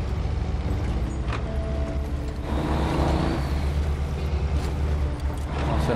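Pickup truck engine in the video game SnowRunner, a steady low rumbling drone with mechanical rattles and clunks over it, continuous and fairly close.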